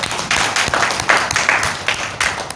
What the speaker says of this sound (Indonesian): mohon aplaus untuk Bapak Ibu semua